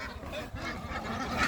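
A flock of domestic ducks on a farm quacks and honks in overlapping, uneven calls at close range, climbing out of water into their enclosure.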